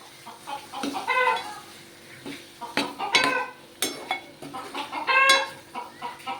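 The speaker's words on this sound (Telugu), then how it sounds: "మా ఇంట్లో కోళ్ళు కూడా ఉన్నాయండి కోళ్ళ చప్పుడు వినబడుతుందా మీకు" Household chickens cluck in short, repeated bursts nearby during home cooking, with a few louder squawks and faint clinks of dishes in the background.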